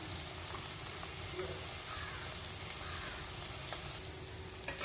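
Steady sizzling of capsicum frying with onion and tomato in a pan, a dense even crackle held close and constant with no talk over it.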